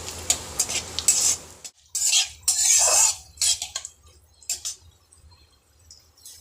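Whole cumin and bay leaves frying in oil in a pan, heard as short bursts of crackling sizzle and spatula scrapes separated by quiet gaps.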